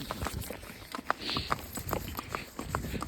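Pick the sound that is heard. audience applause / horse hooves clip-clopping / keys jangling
horse hooves clip-clopping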